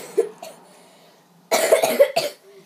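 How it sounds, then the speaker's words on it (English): A couple of short coughs, then a harsher burst of coughing, close and fairly loud with brief silence between. "Still got a little cough now."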